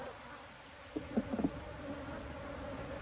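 Bees buzz around a broken beehive being shaken out, a faint steady drone with a few closer, louder buzzes passing by, and no voices.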